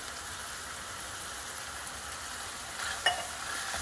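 Ground beef mixed with canned Rotel tomatoes cooking in a pan, giving a steady, quiet sizzle with a brief louder crackle near the end; no one speaks.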